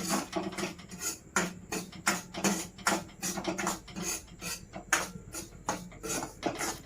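Semolina roasting in a pan for rava kesari is stirred without pause, giving a steady run of close scraping and light clinking strokes in an even rhythm, with no voices.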